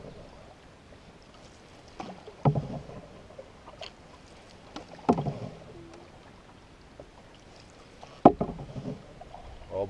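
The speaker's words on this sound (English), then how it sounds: "I was paddling, steering the canoe, doing all that fun stuff." Canoe paddling on Rain Lake in Algonquin Park, a few irregular paddle strokes splashing and knocking against the hull at close range over a quiet outdoor background.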